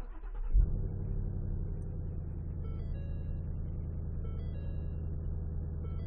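A 2017 Ford Mustang engine cranks and catches with a sharp burst, then settles into a steady, deep, rumbling idle that continues close by with no talking.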